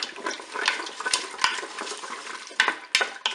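Ingredients seasoned with Ras El Hanout are stirred inside a Cookeo multicooker, with irregular soft scrapes and several sharp clacks of a utensil against the pot, close by and with no talking.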